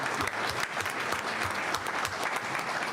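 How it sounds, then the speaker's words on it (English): Attendees at a town board meeting applaud a youth softball team, a dense, steady round of many hands clapping with a faint murmur of voices underneath, held at even level throughout. "We want to offer a round of applause congratulating them first."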